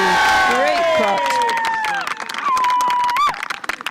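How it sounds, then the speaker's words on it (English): A Scottish golf gallery at the Women's Scottish Open cheers and whoops loudly, with shrill whistles and clapping that burst, dip briefly, then swell again before breaking up into scattered shouts. "There's a Scottish cheer."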